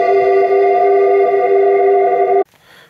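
A sustained Behringer Poly D synthesizer chord rings steadily with a wash of reverb from an Electrosmith Daisy Pod, then cuts off abruptly and leaves a faint reverberant tail.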